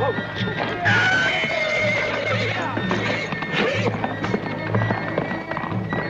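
A horse in a Western TV drama scene whinnies and neighs after being shot, a strained call rising over a steady outdoor background, with no other voices during the clip.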